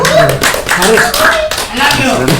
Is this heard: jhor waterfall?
no